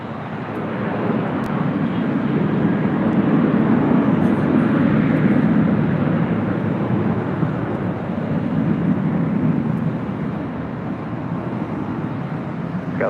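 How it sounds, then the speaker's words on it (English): A Southwest Airlines Boeing 737-700 jet departing LAX, its engines giving a loud, steady broadband roar that swells and then holds near and continuous with no talk. "That is Southwest Airlines Flight 232 heading to Oakland, California. It's a 737-700."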